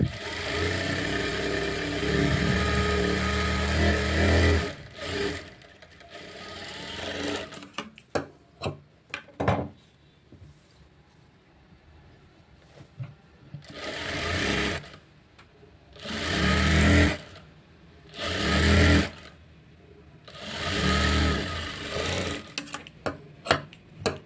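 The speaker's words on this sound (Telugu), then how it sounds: "ఇలా ఒక సైడ్ అయితే నీట్గా కుట్టుకోవాలి" A sewing machine stitching a blouse: a long continuous whirring run, then several shorter bursts of motor hum separated by pauses and small mechanical ticks. Close and fairly loud, with no talking.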